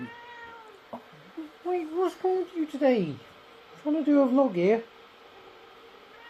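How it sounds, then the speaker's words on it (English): A pet rescue cat meows several times indoors, drawn-out rising and falling cries close by, while a person talks over and between them. "that's my cat there"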